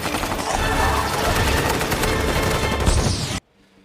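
A loud, dense burst of gunfire from a Kingsman film scene, a continuous roaring volley that cuts off abruptly into near silence.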